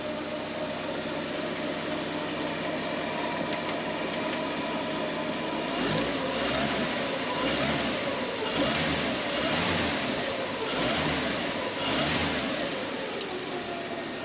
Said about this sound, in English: As you can see, the engine sounds very good.